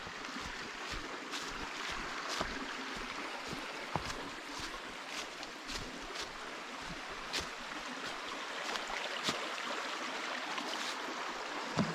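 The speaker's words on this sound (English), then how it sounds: "Pretty creek. Water's running pretty good here." Jersey Creek runs under a trail bridge in a Wisconsin woodland, a steady broadband wash of flowing water with scattered brief knocks and rustles near the microphone, no talking.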